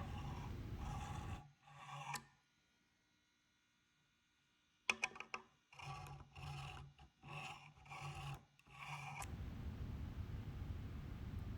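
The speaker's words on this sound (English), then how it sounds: "I'm going over the frets with my crowning file" Bursts of harsh metallic rasping as a crowning file works over guitar frets, several short strokes in a row, with a quiet pause partway through before the filing resumes steadily.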